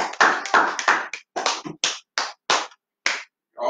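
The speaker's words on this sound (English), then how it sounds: "Give the whole Almighty a hand clap." A small worship gathering at a Feast of Unleavened Bread service gives rhythmic hand claps, first a quick run of loud near claps and then slower, spaced single claps with short silences between them.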